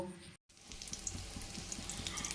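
Lentil paste frying in oil in a pan while cooking a banana blossom dish, a steady close sizzle with bubbling, crackling texture after a brief gap.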